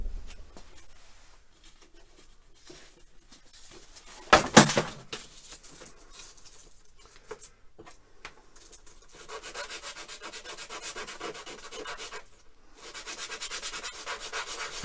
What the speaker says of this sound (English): so just going to sand that down, kind of get it dome shape.